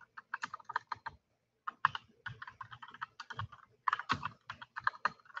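Quick, uneven bursts of key clicks on a computer keyboard as code is typed, close and crisp with short gaps between flurries and no voice over them.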